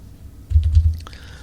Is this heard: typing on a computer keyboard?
yes